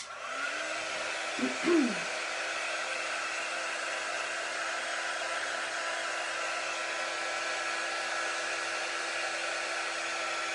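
A hair dryer blows steadily and close by, drying chalk paint on a DIY home decor piece. The airflow hum runs unbroken for about ten seconds, with a brief shift in tone near the start.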